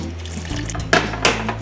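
Two cups of water are poured into a pot of seafood gumbo in a home kitchen, giving a short close splashing burst with a couple of sharper sloshes.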